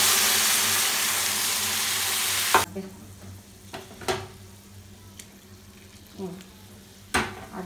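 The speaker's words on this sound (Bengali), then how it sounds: "এর মধ্যে আমি দিয়ে দেবো গরম জল, পরিমাণ মতো জল দেব।" Hot water poured into a sizzling pan of Bengali eggplant ghonto gives a loud, steady rushing hiss for a couple of seconds, then stops. Quieter stirring, scraping and a few clinks follow near the pan.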